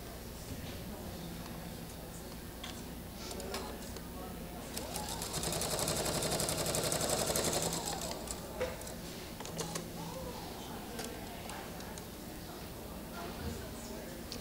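Sewing machine stitching quilt pieces, a steady faint mechanical whir running throughout and swelling louder for a few seconds in the middle, with a quiet voice talking at times.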